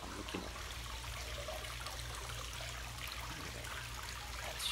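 Steady running water splashes and trickles continuously, with a low rumble beneath it, as if close by in an echoey space.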